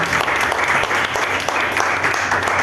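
A crowd claps steadily and warmly at a year-end toast, the dense applause close and sustained throughout with no break.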